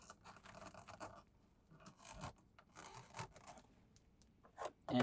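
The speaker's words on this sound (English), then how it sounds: "and put our cap back on" An RV sewer hose cap is handled and screwed back on, giving faint, intermittent scraping and rubbing sounds with a sharper click near the end.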